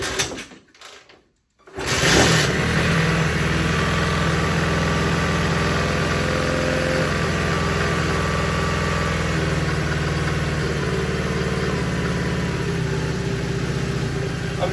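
A Honda CT70 K3 motorcycle engine starts after a short silence and settles into a steady, buzzing idle, close and even for the rest of the stretch.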